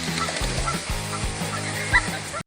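A duck calls in a series of loud, nasal, honking quacks, repeated in short bursts at close range over a steady background hiss.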